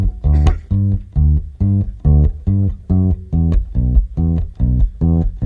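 An acoustic bass in a studio thumps out a bluegrass-style intro in a steady, bouncing pattern of round, deep plucked notes, loud and close with no talking.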